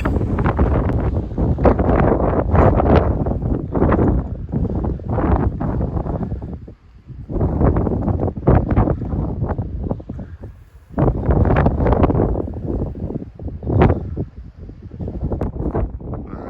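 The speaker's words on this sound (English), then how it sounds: "hopefully you can hear me over the wind there" Gusty wind buffets the microphone on an exposed Appalachian Trail mountain ridge near Carvers Gap, loud roaring bursts rising and falling with brief lulls, no talk.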